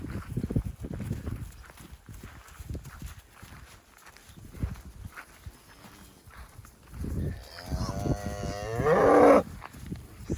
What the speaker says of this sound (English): Hey cow, come on cow.